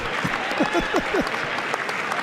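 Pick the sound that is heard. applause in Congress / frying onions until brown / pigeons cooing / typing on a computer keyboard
applause in Congress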